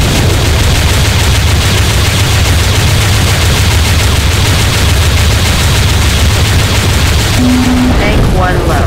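Space battle gunfire and explosions in a video game, a dense, loud, continuous barrage of blasts and rumbling booms filling the whole stretch, with a brief electronic tone near the end.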